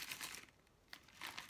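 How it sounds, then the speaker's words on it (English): A plastic bag is pulled from a student's university bag, giving soft, close crinkling in a few quiet bursts with pauses between. "one plastic bag"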